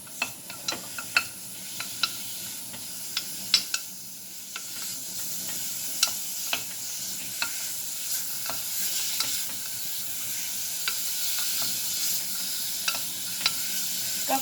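Beef sizzles steadily as it stir-fries in a hot pan while a spatula clicks and scrapes against it at irregular intervals, close up with no talking.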